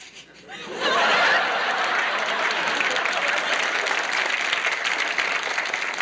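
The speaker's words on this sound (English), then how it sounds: "And the crowd goes wild." A comedy audience bursts into sustained applause after a brief quiet start, loud and steady clapping from a large crowd mixed with some chuckles and laughter.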